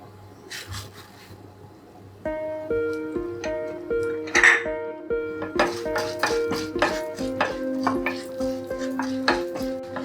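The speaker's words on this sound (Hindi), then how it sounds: "अभी हम इसमें डालेंगे उड़द दाल।" Urad dal poured into a frying pan while making mango menaskai, a brief rattle followed by repeated metallic clinks and scrapes of a spoon stirring, close and fairly quiet.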